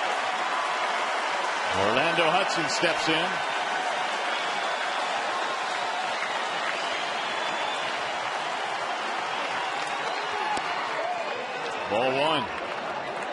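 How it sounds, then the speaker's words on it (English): Baseball stadium crowd at a Tigers home game in Detroit cheers and claps steadily, a broad far-off roar that lasts throughout, with a play-by-play announcer talking over it. "And here comes the crowd now."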